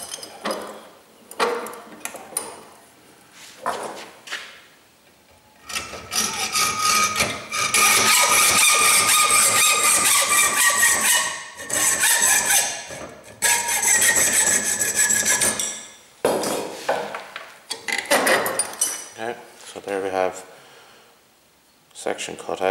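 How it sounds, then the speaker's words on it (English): Hand hacksaw cutting through metal, with loud rasping back-and-forth strokes in bursts separated by pauses; someone talks between the sawing runs. "I'm going to do a little bit more hacksawing around here, because the more I can hacksaw off, the less I have to file"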